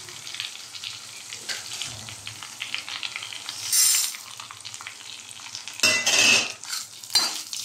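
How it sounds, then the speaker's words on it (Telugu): Cumin, coriander and urad dal fry in hot oil in a pan for a ginger pickle, giving a steady close sizzle with occasional scraping stirs and metal clinks. "ఇవన్నీ బాగా వేగాలండి."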